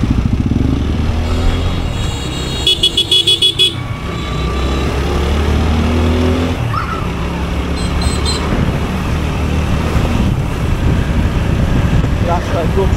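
Motorcycle engine on a moving bike out on a road, steady low rumble under heavy wind buffeting, with passing traffic and a brief horn toot partway through.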